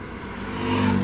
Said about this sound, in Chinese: 现在我们来测试急踩、急加速、急刹的部分